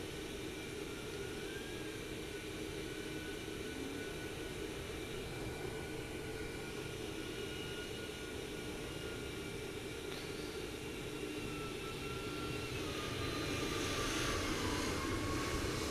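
Airliner landing in Microsoft Flight Simulator 2024, a United aircraft arriving at St. Thomas: a steady, loud broadband jet engine roar with a faint high whine, swelling slightly near the end, with no voices.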